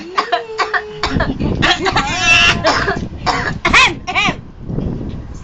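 Several harsh, breathy coughs and throat-clearing bursts from a mother in quick succession, close by at a dinner table, mixed with a few short vocal sounds.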